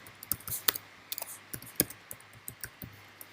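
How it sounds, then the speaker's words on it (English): Fingers tapping out an email address on a MacBook keyboard, a quiet irregular run of light key clicks in short bursts with small pauses, close and alone. "I'm gonna type my email address."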